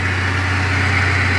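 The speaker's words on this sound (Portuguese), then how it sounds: "Funcionando, motor paradinho" A Renault Clio 1.0 16v engine idles after a timing belt and water pump change, a steady, even hum heard close up and fairly loud without any talk.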